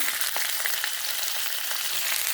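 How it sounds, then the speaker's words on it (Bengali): Whole flat beans frying in oil alongside thin strips of potato and radish, a dense, continuous crackling sizzle at close range, steady and fairly loud with no speech. "শিমটাও সব একটু একটু করে ভেজে ভেজে নিচ্ছি"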